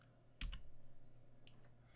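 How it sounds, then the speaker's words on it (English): A single computer keyboard key, the up arrow, is pressed in a quiet room: one sharp, close click, then a fainter tap about a second later, over a low steady hum. "I'm pressing the up and down key"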